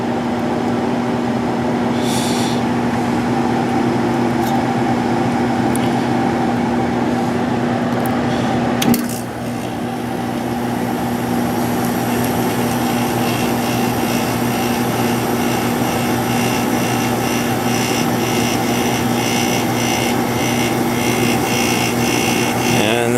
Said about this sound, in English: Let's see if we can get the compressor to start.